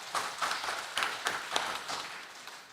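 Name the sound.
applause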